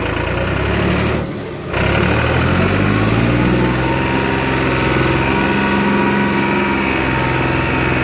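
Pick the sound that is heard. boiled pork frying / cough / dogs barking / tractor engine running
tractor engine running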